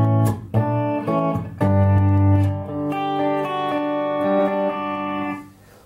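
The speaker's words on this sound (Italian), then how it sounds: "istantaneamente ritorno anche al canale pulito." Clean-channel electric guitar played through a pedalboard, sustained chords ringing loud and bright with a touch of reverb, fading out at the end.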